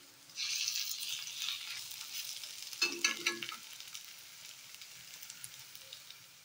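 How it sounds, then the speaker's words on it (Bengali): Masoor dal fritters fry in hot oil with a bright crackling sizzle that rises quickly, jumps to a louder burst of spitting and bubbling midway as they are turned, then settles into a softer steady fry. "বড়াগুলো উল্টিয়ে দিচ্ছি"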